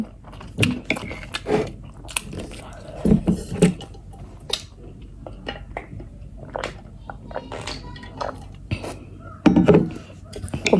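Someone eating Korean instant noodles up close, with scattered bites, slurps and chewing sounds in uneven bursts, mixed with occasional speech.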